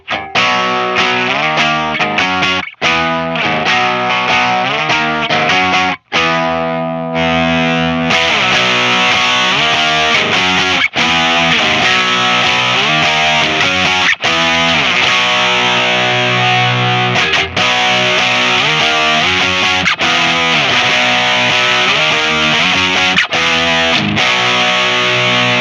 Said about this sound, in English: check out the gain range in the custom mode